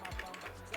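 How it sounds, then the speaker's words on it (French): Keys on a computer keyboard are tapped quickly as a command is typed, a short run of faint, close clicks. "je vais d'abord taper toute la commande"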